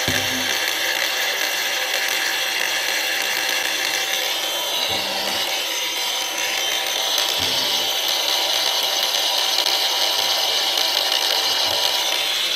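DongCheng DCSM04-100 cordless angle grinder held at its lowest speed setting, a steady, loud high whine running continuously without pause.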